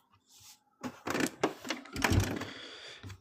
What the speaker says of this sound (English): If I sew down the back first, I can right side it out.